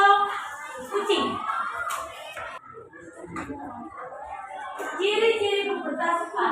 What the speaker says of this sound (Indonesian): Beri tepuk tangan untuk kelompok panda.